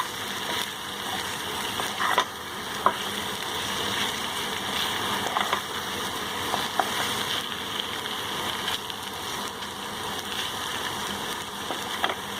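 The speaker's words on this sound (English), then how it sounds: "Let's stir it." Masala arbi (taro) frying in a pan while being stirred, a continuous low sizzle with scattered clinks and scrapes of the spoon against the pan.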